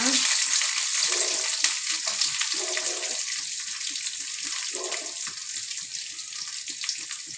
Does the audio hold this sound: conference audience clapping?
no